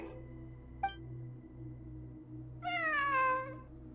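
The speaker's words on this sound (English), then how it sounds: "A cat?" A single clear cat meow in Genshin Impact's Sumeru event, rising then falling, heard after a faint short chirp over quiet ambient game music.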